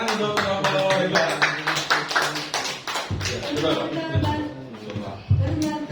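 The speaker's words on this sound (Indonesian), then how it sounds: "Tepuk tangan untuk kelompok hebat." A group claps and taps for classmates after a school presentation, the quick, uneven hand claps mixed with voices talking over them throughout.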